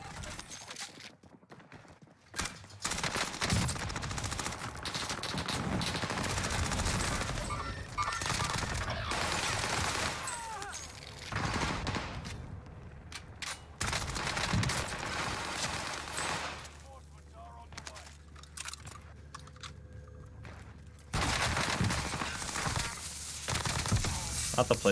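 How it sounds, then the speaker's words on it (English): Gunfire in the video game Warzone on Rebirth Island, scattered bursts and shots mixed into a dense, busy game soundscape with hoofbeat-like clatter and occasional talk throughout. "Now you're getting shot at right there."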